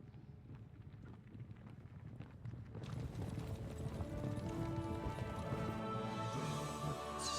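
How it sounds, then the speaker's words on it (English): Horses trample in the video game Kingdom Come: Deliverance 2, a rapid clatter of hooves that swells suddenly louder and denser partway through, with wind noise in the background. "They hear horses trample."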